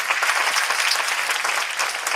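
Studio audience applauding guests, a dense, continuous burst of clapping with no voices over it.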